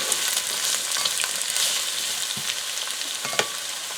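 Cabbage with smoked turkey sizzles loudly in a pot while being stirred, a dense constant crackle broken by occasional spoon knocks and scrapes, no voices.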